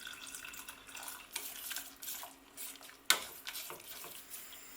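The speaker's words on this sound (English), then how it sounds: "Add more liquid." Liquid being poured into a thickening oat-milk sauce in a pan on the heat, a soft continuous watery pour with faint clinks and one sharp knock near the end, fairly quiet and close, with no talking.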